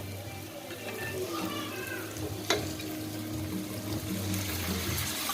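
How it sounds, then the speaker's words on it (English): Water is poured into dry spices cooking in a pan, with a continuous splashing pour and a sizzling hiss from the hot pan, heard close up. "I will add some water."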